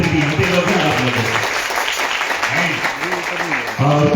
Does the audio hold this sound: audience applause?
yes